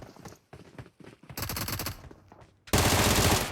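Bursts of automatic gunfire in PUBG crackle in rapid loud volleys, pausing briefly between strings of shots and ending in a sustained roar of fire, close and without talk.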